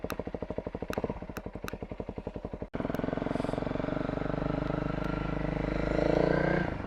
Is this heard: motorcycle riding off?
yes